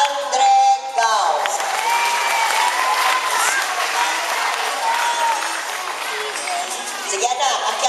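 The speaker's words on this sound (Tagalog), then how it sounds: "isang palakpak para kay Steve Andre Gao" Applause from a school audience at a Buwan ng Wika awards ceremony greets a fifth-grade award winner, a steady dense clatter of many hands sustained across the whole stretch, with a voice speaking over it near the start.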